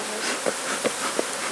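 Honey bees from a queenless swarm buzzing close by, a steady insect drone with a few louder passes as individual bees fly near.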